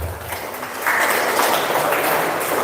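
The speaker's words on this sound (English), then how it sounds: "Give a round of applause for yourself" A workshop audience claps together at close range, a dense patter of many hands that swells after a moment and holds steady for a couple of seconds.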